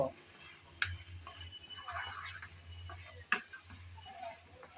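Mashed potato sautéing with tomato in a pan, a soft sizzle under intermittent scraping stirs with a couple of sharp utensil knocks, close and fairly quiet.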